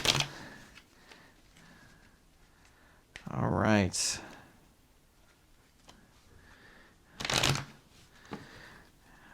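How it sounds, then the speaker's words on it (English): A deck of cards being shuffled up close, with short riffle bursts followed by a longer cascading shuffle and a second sharp burst later, set against quiet background. A person briefly speaks between the shuffles. "Make sure that you can see that I'm shuffling them."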